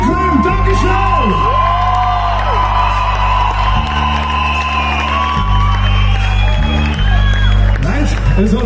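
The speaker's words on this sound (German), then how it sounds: "Ein riesen Applaus für das geile Publikum hier in Pfreimd" Festival crowd at the Pfreimd Kirwa whooping, cheering and applauding loudly and continuously, with yells rising over steady band music.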